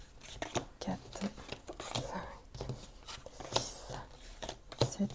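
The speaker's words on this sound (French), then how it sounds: "on va aller tirer 9 cartes" Tarot cards are drawn and laid down one by one, making soft, close slaps and papery rustles in an irregular rhythm under quiet whispered speech.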